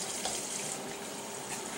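Water runs steadily from a tap to wash a dog, a continuous close hiss and splash with no talk.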